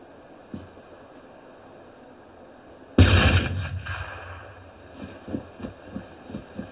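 A sudden loud blast in the combat game Arma 3 erupts after a quiet lead-in, a deep booming roar that decays over about a second, followed by a string of distant, muffled thuds.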